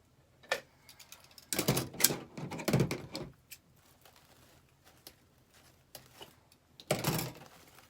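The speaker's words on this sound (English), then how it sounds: "Just gonna cut it with my scissors." Scissors snipping through a pipe cleaner while building a Dollar Tree Easter bunny wreath, heard as a few sharp crisp cuts in a quiet room.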